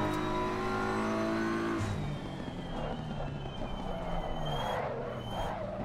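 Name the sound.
racing video game tire slip sound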